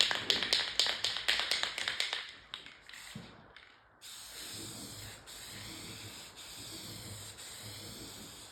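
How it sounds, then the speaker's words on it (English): A can of Krylon Fusion Satin Clear coat is shaken with a rapid rattle of the mixing ball, goes quiet briefly, then releases a steady hissing spray onto an arcade control panel. "Let's go ahead and get some clear on this. We're using the Krylon Satin Clear."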